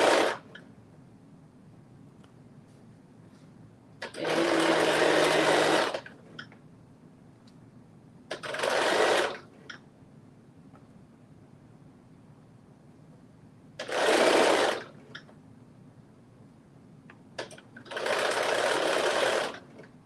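A sewing machine stitches in five separate bursts, each a steady mechanical run of a second or two, with quiet pauses between them and no voices.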